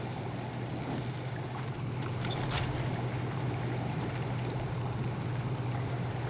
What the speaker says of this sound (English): Oh, that's the water. I'm like, what is that noise?